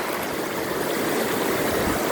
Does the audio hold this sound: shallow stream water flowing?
yes